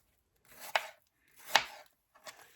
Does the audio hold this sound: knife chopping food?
yes